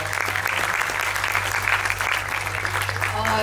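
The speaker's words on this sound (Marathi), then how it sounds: "एकदा जरा जोरदार संपूर्ण या टीमसाठी टाळ्या होऊन द्या" An audience applauds the team at a Satyashodhak Jalsa stage performance, a steady, dense wash of clapping that fills the hall continuously from start to finish without a break.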